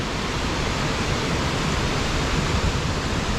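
Steady, loud broadband rush of a waterfall beside a functioning mill in Helen, Georgia, a continuous close roar with no pauses and no voices.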